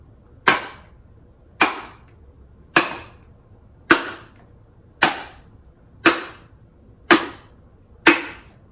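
Two cans struck together to mimic a giant's footsteps: eight sharp metallic bangs, each with a short ringing decay, spaced evenly about one second apart, loud and close with nothing else between them.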